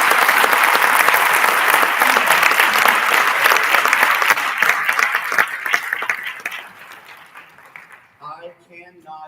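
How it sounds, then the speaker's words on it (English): An audience at a school percussion concert claps loudly for several seconds after the performances. The applause thins and fades, and a voice follows at the end. "Can we give a round of applause for all the performances?"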